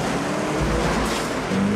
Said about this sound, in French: John Flynn montre tout son talent, notamment lors d'une poursuite en bagnole rondement menée